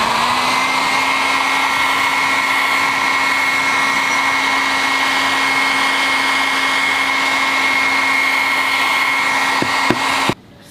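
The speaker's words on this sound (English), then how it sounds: "let's start heating the back panel with the hair dryer" A hair dryer blows hot air onto the back panel of a water-damaged Galaxy S8 to loosen it, a loud, steady whirring drone that runs unbroken and then cuts off abruptly after a few clicks near the end.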